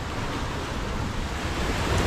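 Sea waves washing onto Charrana beach in northern Morocco, a steady broadband surf roar with wind across the microphone, close and continuous, no voices.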